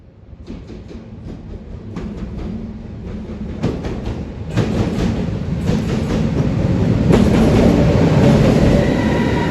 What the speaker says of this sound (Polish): Jak słyszycie, nadjeżdża skład